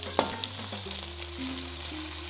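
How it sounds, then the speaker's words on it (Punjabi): Tempering (tadka) for besan kadhi sizzling and frying in hot oil in a home kitchen, a steady close crackle with a few sharper pops and stirring, no talk over it. "ਕਿੰਨਾ ਵਧੀਆ ਲੱਗ ਰਿਹਾ ਕੜੀ ਦਾ ਤੜਕਾ"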